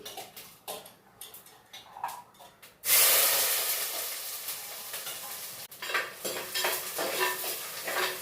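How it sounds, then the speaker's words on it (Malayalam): Mustard seeds crackle and splutter in very hot oil in a home kitchen, a sudden loud burst of popping and sizzling that stays dense and then flickers with sharp pops, after quieter clinks and stirring beforehand. "കടുകിട്ട് കൊടുക്കാം നല്ല ചൂടായിട്ടുണ്ട്"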